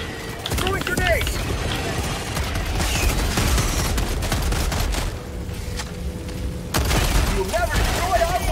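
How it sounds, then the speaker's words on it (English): Grenade explosions and rapid gunfire in a multiplayer shooter, a dense near-continuous crackle of shots and heavy booms that fills the whole stretch. "Throwing grenades!"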